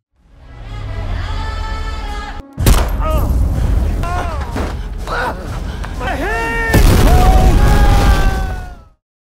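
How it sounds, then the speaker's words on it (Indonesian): A loud explosive boom as an overturned car blows up after a gunshot, followed by sharp gunshots and crackling blasts over a dense, dramatic film score, with voices shouting in between. "menembakkan sebutir peluru untuk membuat mobil yang terbalik itu meledak"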